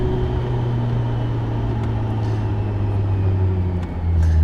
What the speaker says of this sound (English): So we're going to be driving more highway than anything.